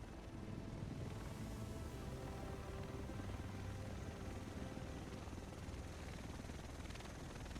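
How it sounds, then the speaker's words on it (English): A helicopter arrives in The Division video game: a steady, loud rotor roar with whooshing chop fills the whole stretch without letting up, close and alone. "The rest of us should be in this chopper."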